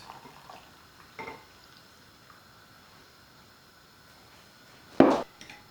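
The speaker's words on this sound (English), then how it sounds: "Mix poppy seeds with water." Boiled water is poured over poppy seeds to soak them for Ukrainian kutia. A quiet kitchen is broken by a short splash early on and a louder pouring burst near the end, followed by faint trickles.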